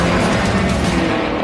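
A 2012 BMW M5 with a twin-turbo 4.4 liter V8 of over 500 horsepower accelerates hard, its engine roaring loud and close in one continuous, rising burst.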